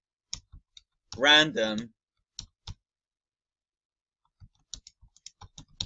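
A computer keyboard is tapped in sparse, light clicks, some single and some in quick bursts, with a short stretch of someone speaking in between.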